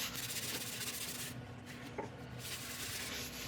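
Abrasive paste is rubbed by hand into a spinning resin and wood turning, giving a steady, close, dry scrubbing hiss with a faint hum and no voices.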